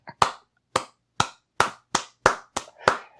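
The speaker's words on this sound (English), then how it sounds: "I just gave myself a slow clap." A single person gives a slow clap: eight sharp, evenly spaced hand claps about half a second apart, close and alone with no talking.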